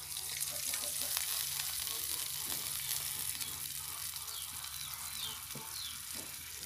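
Two tablespoons of bottled fish sauce hit a pan of fried vegetarian tofu-skin rolls after the heat is turned off, giving a steady, quiet hiss with light crackling.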